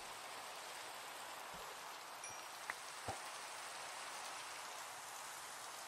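Steady soft rain falls in Minecraft, a faint even patter with a few small clicks and taps scattered through it, and no talking.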